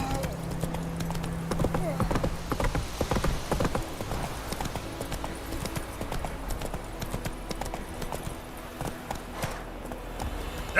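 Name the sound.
horse Roach galloping in video game Witcher 3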